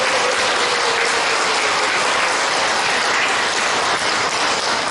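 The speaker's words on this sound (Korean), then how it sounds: "우리 한 번 더 감사의 박수를 쳐드리겠습니다." Applause of thanks from a Catholic prayer-meeting audience in a parish church, a dense steady wash of clapping that holds at an even level throughout, with no voices heard.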